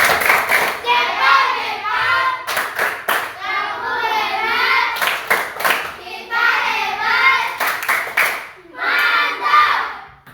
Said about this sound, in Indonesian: Kita tepuk hebat dulu, tepuk hebat.